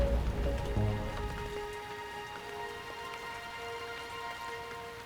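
Steady rain pours down in a constant, even hiss, with a heavier low rumble fading at the start, close and unbroken with no voices.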